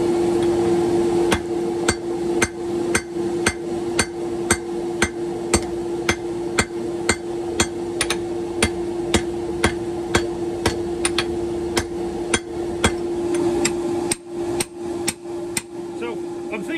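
A smith hammers hot wrought iron with a straight peen while forging a Viking hammer, ringing metallic blows landing in a steady, regular rhythm over a constant hum, loud and close, with no talking.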